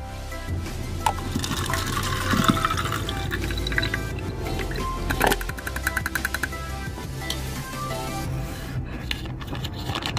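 Tobacco-steeped liquid is strained and poured into a spray bottle, giving a steady trickling, splashing flow with scattered drips and clinks over about ten seconds.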